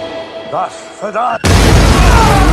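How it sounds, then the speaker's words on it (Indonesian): A sudden loud blast from a small homemade explosive built from a mousetrap bursts in after a few seconds of quiet voices, followed by a sustained roaring, crackling rumble. "dia menggunakan jebakan tikus untuk membuat sebuah peledak kecil"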